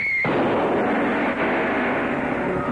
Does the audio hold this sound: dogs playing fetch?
no